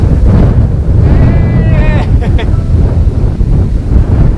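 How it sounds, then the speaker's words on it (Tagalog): Strong wind roars across a mountain viewpoint over the Cagayan Valley, buffeting the microphone in a loud, constant rush with brief voices faintly mixed in. "Ang lakas ng hangin."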